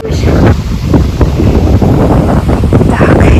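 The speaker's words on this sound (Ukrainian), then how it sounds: "Тут вітер такий" Loud, buffeting wind gusts roar across the microphone in an empty snowy park, a constant rumbling blast that swells and dips without letting up.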